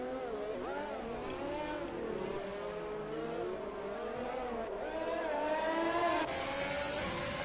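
Formula-style race cars lapping Monaco in a racing video game, several high-pitched engines whining and shifting together, rising and falling continuously as they run close in a pack.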